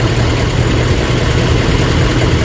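A Land Rover Range Rover engine with a timing chain fault idles up close, giving a loud, constant, dense mechanical rumble and clatter with no pauses.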